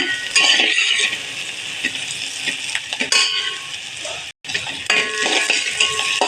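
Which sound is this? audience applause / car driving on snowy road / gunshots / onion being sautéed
onion being sautéed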